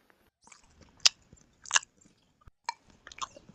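A boy bites and chews crispy home-made fried fish, a few distinct close crunchy bites spaced apart with quiet pauses between, no talking.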